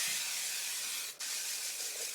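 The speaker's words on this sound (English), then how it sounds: "Now you could take some hairspray and spray it up here to kind of give you that height" Sebastian Shaper hairspray sprayed onto hair during a lace wig styling, two sustained close hissing bursts separated by a very brief pause.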